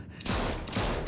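A loud, continuous burst of gunfire as a magazine is emptied at a character in The Walking Dead video game. The rapid shots run together, with brief sharper cracks at regular intervals.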